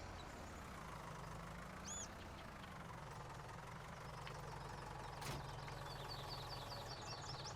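A small tractor engine in Farming Simulator 19 running steadily with a low, knocking idle drone, holding an even rhythm throughout, with faint mechanical clicks and a brief clank partway through, no talking.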